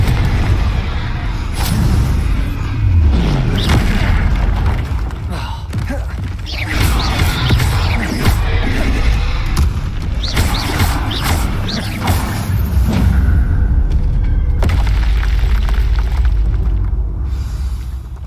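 Incendio and Confringo spell blasts in Hogwarts Legacy, a rapid series of booming impacts and crackling bursts, loud and dense, with a voice calling out between the blasts.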